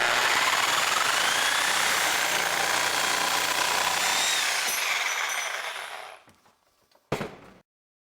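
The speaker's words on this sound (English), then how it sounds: "use a saw with a metal cutting blade" Saw with a metal-cutting blade cutting a tandem main tube, a loud, harsh, continuous grinding buzz that fades out after about six seconds, followed by a brief clatter.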